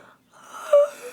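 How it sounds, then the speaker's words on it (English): A woman's soft, breathy yawn in a quiet bedroom setting, rising into a drawn-out moan-like tone before fading, close and alone. "With a yawn"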